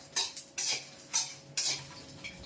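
Whole spices (coriander, cumin, bay leaf and dried chillies) dry-roasting in a pan for a jackfruit curry, heard as four rhythmic bursts of stirring scrapes and rattling against the metal, fairly quiet and close, with no talk.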